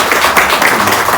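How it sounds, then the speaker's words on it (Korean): A church congregation applauds in welcome during a Sunday service, a brief, loud, dense wash of clapping filling the room. "우리 한번 박수로 좀 환영하도록"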